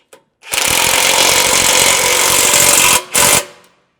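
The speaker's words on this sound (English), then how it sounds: "Snug up the 2 front bolts." Power tool snugging the two front bolts on a Jeep JK/JL/JT front bumper plate, a loud continuous whirring burst lasting over two seconds, then a brief second pulse, close up and alone.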